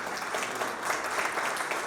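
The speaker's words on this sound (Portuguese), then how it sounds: "Uma salva de palmas para a Unimed." An audience at a retail and franchising business conference applauds the sponsor Unimed, a short, full burst of crowd clapping, dense and even from start to finish.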